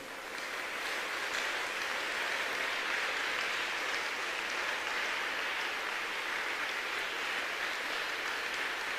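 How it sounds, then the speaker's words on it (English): A congregation at a church worship service claps together in a sustained, dense burst of applause, steady and fairly loud for several seconds with no voices on top. "a clap of offering to the Almighty."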